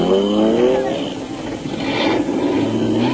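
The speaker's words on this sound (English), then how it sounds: "With the SBM Land Rover's V8 engine still sounding crisp," A Land Rover V8 engine roars through an off-road production-vehicle race, with a sustained revving drone that rises and falls in pitch. It is heard close and loud, and speech sits faintly underneath.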